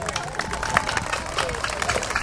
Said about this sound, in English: A round of applause real quick for our survivors out there.